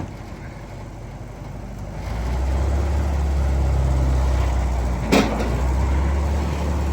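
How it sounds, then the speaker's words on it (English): An M38A1 military jeep, just repaired and running with its hood off, drives along at a mine site, its engine a steady low rumble that swells after a quieter start, with a brief sharp knock partway through. "Jeep had to be fixed, so let's take it for a roll"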